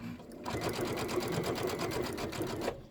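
A sewing machine stitches quilt pieces together in a close, rapid burst of even needle chatter that starts after a short pause and runs steadily for a couple of seconds before stopping.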